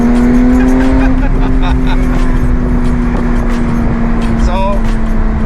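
A Porsche 991.2 GT3 on cup suspension with a Sharkworks exhaust drives on a track, its engine holding a steady, loud, tonal drone with brief higher engine notes, while people talk over it inside the car.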